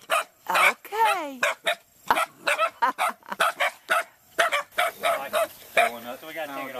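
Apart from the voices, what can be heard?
puppies barking and yipping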